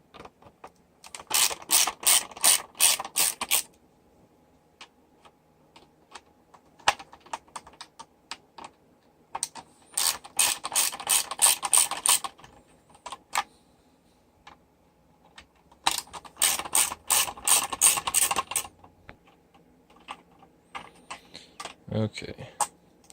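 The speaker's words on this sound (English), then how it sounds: "socket or star bit. And just simply remove those 4 screws as well." A ratchet with a T10 socket backing out four screws from a car's climate control panel, bursts of rapid clicking ratchet strokes separated by pauses, close and clear.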